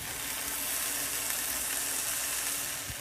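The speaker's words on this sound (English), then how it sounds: "hear that sizzle?" Ground beef sizzles steadily in a pan over medium heat, a dense crackling hiss that runs unbroken and fairly loud. Onions and garlic are part of the dish.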